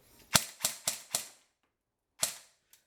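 An airsoft AEP pistol running on a LiPo battery fires four quick, crisp shots in close succession, then one more after a pause and a faint click, with little gearbox whine behind them.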